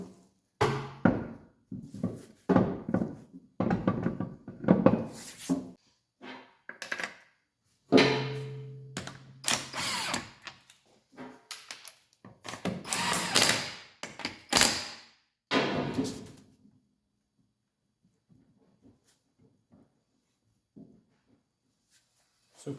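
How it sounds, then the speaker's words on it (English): A wheel goes back onto a Mercedes C-Class W202 with a power tool: a string of close, sharp thunks, taps and clunks, one brief sustained mechanical burst in the middle, then quiet scattered ticks near the end. "Just going to chuck the wheel back on"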